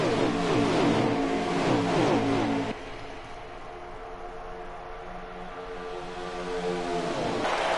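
A pack of race cars roars past on the oval at Atlanta during the Fireball 150: loud, layered engine drones that surge, then drop to a steadier, quieter hum as the field passes, with no talking.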